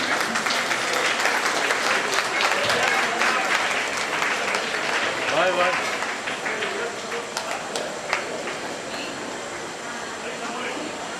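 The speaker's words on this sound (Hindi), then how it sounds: "तालियां बजती रहनी चाहिए." Sustained audience applause at a trust's notebook distribution event, dense clapping continuing steadily for the whole stretch and thinning slightly toward the end, with someone speaking over it.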